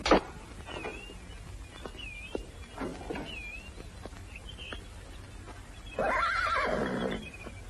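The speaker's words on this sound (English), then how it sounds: "Looks like a fine horse." A horse in a 1950s Western film scene neighs loudly, ending in a long rising and falling whinny, with a few short squeals and snorts before it and faint ambient noise between them.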